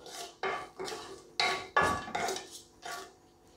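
Whole bay leaf, cinnamon stick, cardamom and cloves stirred in a hot pan for a Kerala vegetable stew, giving a run of sharp scraping clinks of a utensil against the pan, about eight knocks in a few seconds, close and fairly loud.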